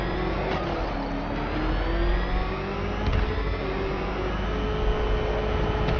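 Batmobile in Batman: Arkham Knight video game, a steady droning engine hum with a slowly shifting pitch as it drives, loud and constant, no talk.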